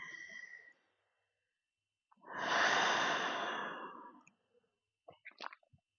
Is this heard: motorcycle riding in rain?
no